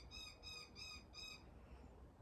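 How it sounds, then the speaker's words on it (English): A bird calls outdoors in a few harsh, repeated squawks, faint and distant, set against a quiet background hiss. "the bird outside's yelling at me."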